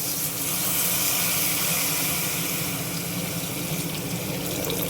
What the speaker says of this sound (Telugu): ఇప్పుడు ఏం చేద్దామంటే నీళ్ళు పోసేద్దామండి